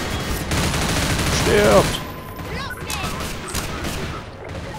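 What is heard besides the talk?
gunfire in the video game Half-Life 2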